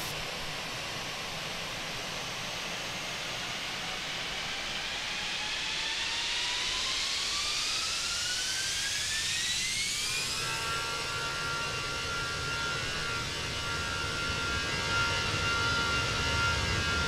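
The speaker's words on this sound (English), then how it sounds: "The roar of the engines on takeoff is authentic." Jet engines on an Airbus A320 in a flight simulator spool up and roar steadily for takeoff, a rising whine sweeping upward over a broad rushing hiss that levels into a loud sustained drone, with no talking.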